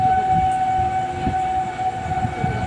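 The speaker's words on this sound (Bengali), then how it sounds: "এই ট্রেনটা আসছে এখন আসানসোল থেকে, যাবে ট্রেন বর্ধমান।" A train from Asansol to Bardhaman rumbles into Raniganj station nearby with a steady high-pitched whine or horn-like tone over rhythmic clacking, heard without any talking.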